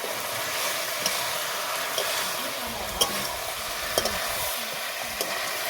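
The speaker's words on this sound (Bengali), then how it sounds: "মাংস মনে হয় আমার ভাজা হয়ে গেছে" Meat sizzles steadily in a pan with bay leaves and ginger paste while a utensil scrapes and stirs, giving soft regular knocks about once a second over the frying hiss.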